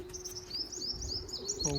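Pigeons coo softly on a rooftop with a few thin chirps, faint and a little distant over low background noise, with no talking.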